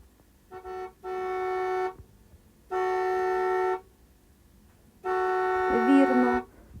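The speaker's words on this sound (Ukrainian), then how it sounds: "а це сигнал машини." A car horn honks three times, each a sustained blare of about a second, separated by short silences.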